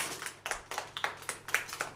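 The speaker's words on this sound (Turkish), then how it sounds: "Ne alkış yapıyorsun?" A young child claps hands at a twins' birthday celebration, about eight quick, light claps in an uneven rhythm, close and fairly soft in a quiet room.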